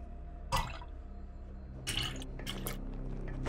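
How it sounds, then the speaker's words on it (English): Water pours into a glass in Call of Duty Vanguard, quiet splashing and trickling in short bursts against a soft low background hum. "Pouring a glass of water in defiance."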